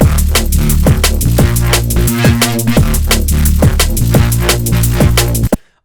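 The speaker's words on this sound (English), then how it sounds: "Today I'm going to break down a Serum patch called Toxic Bubbles" A granular bass patch called Toxic Bubbles, built in Serum, plays loud and dense: bubbling, gritty bass notes pulse in a steady driving rhythm for about five seconds and then cut off abruptly.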